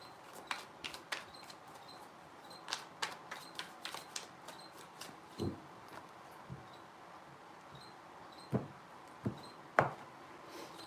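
Tarot cards being shuffled by hand, a quiet run of soft, irregular flicks and taps scattered across the whole stretch, with a few sharper snaps standing out near the end.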